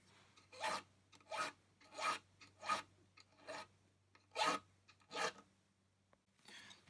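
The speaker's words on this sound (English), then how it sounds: "Just rounding them over. This file's got a safe edge at the bottom, so it's not cutting into the fingerboard." A hand file with a safe edge rounds over the fret ends on a Godin 5th Avenue guitar neck, giving about eight rhythmic rasping strokes, close and distinct, separated by short pauses over a low hum.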